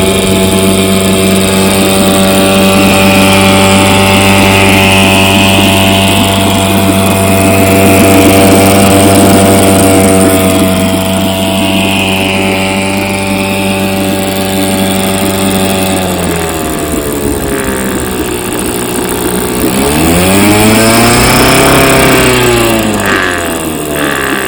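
A vintage motor with a freshly cleaned carburetor runs loud and close with a steady droning hum, its pitch shifting down and then sweeping back up as the speed changes near the end.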